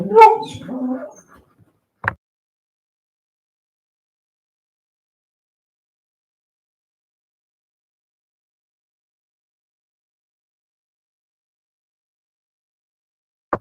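Dogs give a brief close whimper and yip at the start, followed by a single click and then long silence.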